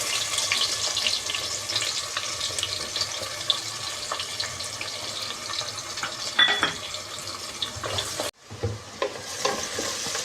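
Sliced large onions and green chillies frying in hot oil with cinnamon and cloves for fish biryani, a steady close sizzle with stirring scrapes and a brief dip near the end, no talking.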